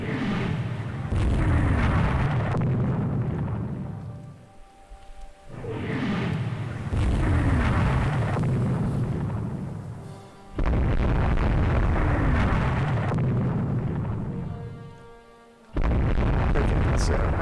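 Naval shells striking and exploding in the Rule the Waves 2 warship battle game: repeated heavy, loud booming blasts with rumbling tails, separated by brief lulls, and no voices.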